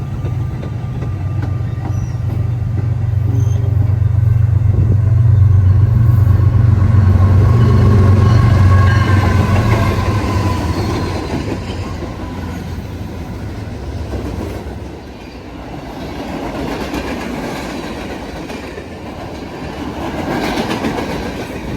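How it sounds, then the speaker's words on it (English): An outbound Metra commuter train meets an eastbound Union Pacific mixed freight at Geneva, Illinois, with a loud low rumble and rhythmic clickety-clack of wheels that peaks midway, then eases into a fainter, steady rolling roar. "as we see this outbound Metro meeting this eastbound UP mixed freight"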